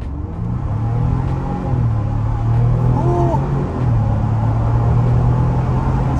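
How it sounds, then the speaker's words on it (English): A 2023 Ford Bronco Outer Banks pulls away hard from a complete stop, its engine droning loud and close as the pitch rises through a gear change inside the cabin, with faint talk beneath. "but complete stop, off the line, on the gas."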